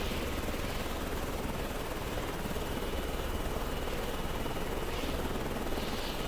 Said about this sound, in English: I have never flown a helicopter in this game.